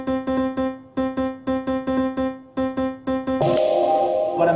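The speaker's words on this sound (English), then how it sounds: "If I actually solo these MIDI notes, they sound like this." Soloed MIDI notes in Ableton Live play a bright, synthetic plucked pattern in short repeated groups of three, clean and alone, ending in a sustained noisy chord swell.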